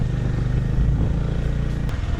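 A motorbike's engine runs steadily close by on a jungle road on the way to a waterfall, a low continuous chugging with slight clatter as the bike rolls in to be parked.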